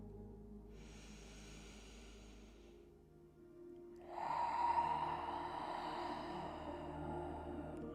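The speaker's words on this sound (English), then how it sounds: "Two more big breaths here." Slow, deep breaths taken during a vinyasa yoga flow, a soft airy inhale followed after a pause by a louder, fuller exhale close to the listener, with no talking.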